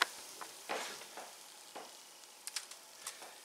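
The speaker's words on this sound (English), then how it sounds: "Actually, I should say how quickly they fry." Rosettes, or buñuelos, frying in hot oil give a soft, continuous sizzle with scattered crackles and pops, close but quiet.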